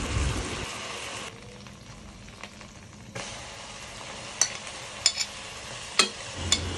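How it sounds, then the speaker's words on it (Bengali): Chicken pieces fry in oil in a pan for morog polao, giving a soft continuous sizzle with a few sharp clicks and spatters from the pan near the end. "মুরগিটা আমি একটু উল্টে দিলাম, যাতে দুই পাশ ভালোভাবে ভাজাটা হয়"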